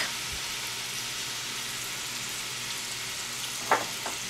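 Onions and garlic frying in melted butter for a chickpea curry make a continuous loud sizzle, joined near the end by a short scrape or clatter of a utensil in the pan.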